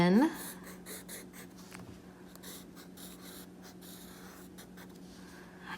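A pen writes lowercase letters on paper in an art lesson, a soft, steady scratching that runs close and quiet under a person talking.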